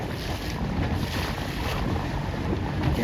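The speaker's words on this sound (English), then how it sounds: "But it's plenty windy." Strong wind sweeps across the water at a C420 sailing regatta, a steady loud roar with buffeting gusts hitting the microphone, mixed with faint wave wash and no talk.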